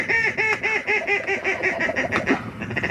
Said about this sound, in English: More ducks coming down the main channel.